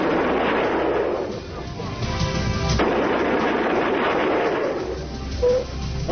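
Military machine gun fire from Browning weapons in a combat setting, a dense sustained rattle of bursts with booming reports, loud and continuous throughout, with some faint voices mixed in.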